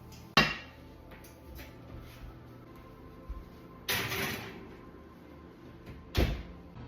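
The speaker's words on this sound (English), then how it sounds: "you're gonna put the lid on and put it in the oven for 30 minutes" A lidded pot of sourdough going into a home oven: a few sharp metallic clanks and thuds, with the oven door opening and closing, separated by quiet stretches, fairly close.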